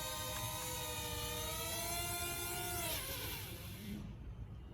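A small drone controlled by a PC gamepad whirs with high, steady propeller tones that shift pitch as it flies and lands, then wind down and stop near the end.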